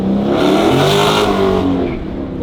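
Dodge Challenger Scat Pack with a Valvetronic Designs valved exhaust revs loudly and close, a sustained deep roar echoing off nearby buildings before falling away at the end.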